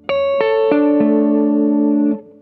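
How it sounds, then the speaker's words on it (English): Four clean electric guitar notes struck in quick succession, the last ringing out and sustaining for over a second before cutting off; the tone shifts between notes. "the tone knob changes the tone of the guitar"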